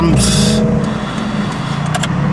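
Road traffic passing in the afternoon, a close steady roar of cars with a brief hiss at the start, heard continuously and fairly loud.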